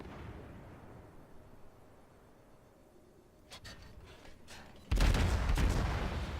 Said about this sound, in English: Kiev is still shooting at us.